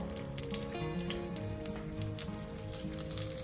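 Dry red chillies and bay leaves sizzle in hot oil as whole spices are tempered for a winter vegetable khichdi, giving a steady close crackle with scattered sharp pops and no talking.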